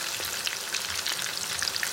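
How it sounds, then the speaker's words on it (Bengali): Chicken pieces frying in a pan over low-to-medium heat, a steady close sizzle with scattered bright crackles and pops running the whole way through, no voices. "আমি কিছুটা পরিমাণ চিকেন ভাজার জন্য এখানে দিয়ে দিয়েছি"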